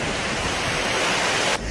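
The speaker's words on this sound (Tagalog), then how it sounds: "nakaranas ang probinsya ng Cagayan ng malakas na hangin at buhos ng ulan." Strong typhoon wind and pouring rain lash Santa Ana, Cagayan, as a dense, loud, unbroken roar that fills the whole clip. It drops abruptly at the very end.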